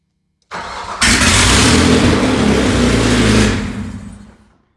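An old Opel Rekord with a spliced wiring harness cranks briefly, catches and fires up into a loud, steady running engine, holding for a few seconds before the sound fades.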